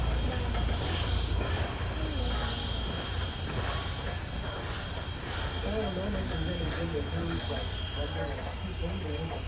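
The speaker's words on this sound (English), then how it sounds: "The sound you'll be hearing is the sound of air coming through the car." Air rushes through the cars of a train in Lancaster, recharging the brake system as a steady broad roar and hiss that holds level throughout, with the rumble of the moving train underneath.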